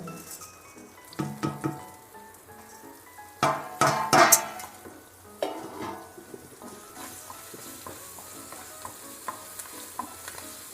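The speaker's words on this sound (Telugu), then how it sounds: "పోపు దినుసులు బాగా ఆగనిచ్చి" Tempering spices such as cumin, fenugreek and carom seeds sizzle in hot oil for buttermilk curry with okra, a steady close crackle with stirring clatter and a few louder scrapes.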